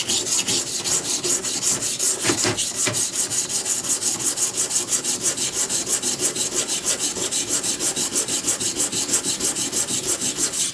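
Sandpaper rubbing by hand on a 1950s Record No. 4 hand plane, working at a higher grit: fast, even back-and-forth rasping strokes in a steady rhythm, close and loud, with two sharper knocks early on and no talking.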